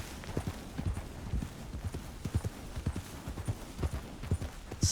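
Horse hooves clip-clopping in Red Dead Redemption 2, a steady rhythmic trot of low thuds close by, moving at an even pace with a quiet background and no talk.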